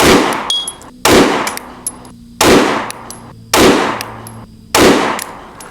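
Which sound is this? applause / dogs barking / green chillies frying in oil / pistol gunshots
pistol gunshots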